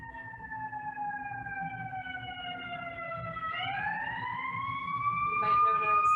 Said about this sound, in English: wait for the ambulance.